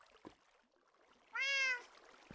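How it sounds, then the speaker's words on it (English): A cat in a video game lets out a single clear, tonal meow in the middle of an otherwise quiet scene, with faint thumps before and after. "You can hear a cat going off there."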